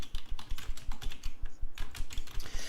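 Someone types steadily on a computer keyboard, with close, rapid, uneven clicks and key taps and no talking.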